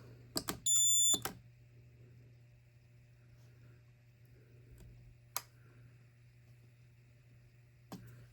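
A workshop fire alarm system under test gives short electronic sounder bursts and beeps with clicks, followed by a long quiet stretch with a steady low hum and a few isolated clicks.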